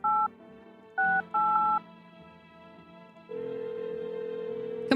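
A video game phone keypad beeps through a dialed number as a few short clipped tone bursts, then a steady sustained tone sounds alone, clear and close with no talk over it.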